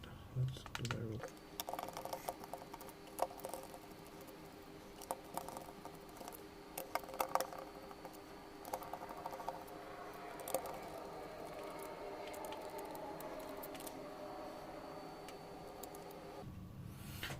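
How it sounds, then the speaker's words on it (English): Screws being removed from a Miyoo Mini handheld game console: faint small ticks and clicks scattered through a quiet room hum, close and soft, no talk heard. "Let's quickly take out the screws."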